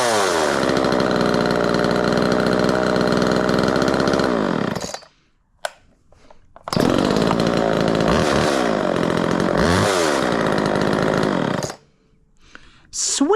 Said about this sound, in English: This thing fires up one time in first pull.